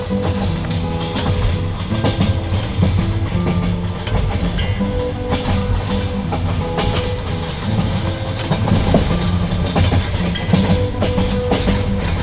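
Rhythmic clickety-clack of train wheels over rail joints, heard from inside a moving electric passenger train, loud and steady with a dense rumble throughout.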